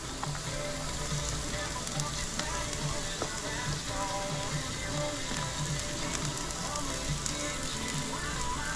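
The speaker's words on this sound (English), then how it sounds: "Now it's time to add the garlic. Get the garlic cooking good." Garlic sizzling on a Blackstone griddle at a campsite, cooked alongside wild hog and vegetables: a steady, dense frying hiss with scattered small pops and crackles, continuous throughout, with faint background sounds.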